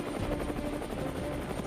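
Steady rhythmic thudding of a military helicopter's rotor with a constant engine whine over a remote drop zone in Arunachal Pradesh, moderately distant and even throughout.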